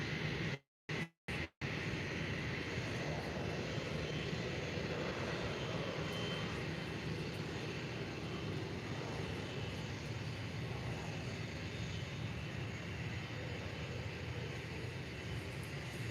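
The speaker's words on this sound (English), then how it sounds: "we have a Jet2 Holidays landing right now as well" A Jet2 Holidays airliner landing at Faro Airport makes a continuous distant roar that holds steady and fairly faint after a brief break near the start.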